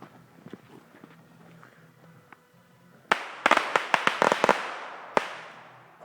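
Handheld fireworks or firecrackers go off outdoors: after quiet footsteps and faint rustling, a rapid string of loud, close cracking bangs bursts out, followed by a few scattered pops.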